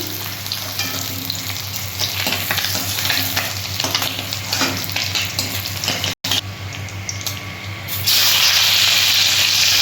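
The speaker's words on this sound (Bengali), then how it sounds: "বাকি পিসগুলো আমি ভেজে নিচ্ছি" Rohu fish pieces frying in hot oil in batches of four, a steady loud sizzle with stirring, a brief dropout near the end followed by a louder, brighter hiss.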